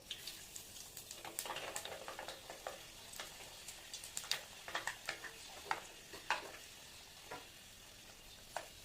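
Cashews and fenugreek seeds frying in oil over a low flame for homemade hair oil: a faint, quiet crackle with scattered small pops and ticks, heard alone.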